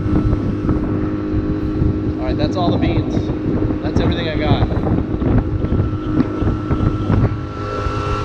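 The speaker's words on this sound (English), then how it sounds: "The feeling of driving a soft bottom boat's definitely interesting." An outboard motor on a soft-bottom inflatable dinghy drones steadily under strong wind noise on choppy water while someone talks over it, the engine rumble constant throughout.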